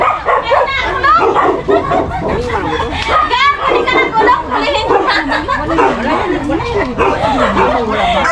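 Several dogs bark, yip and whimper close by on a small Filipino farm, in busy overlapping bursts that keep going throughout, with people chattering underneath.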